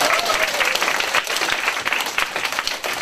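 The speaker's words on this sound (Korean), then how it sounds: "이 박수 한번 나와야 되는데" Audience applause at a cancer seminar, a room full of people clapping steadily and fairly loudly for about three seconds with no talk over it.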